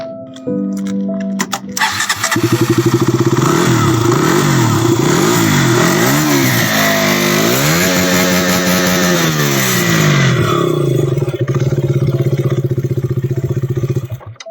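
A KTM Duke motorcycle starts and revs loudly up close, its engine climbing and falling through several throttle blips before settling into a steady, sustained drone as it rides off, then cutting out near the end.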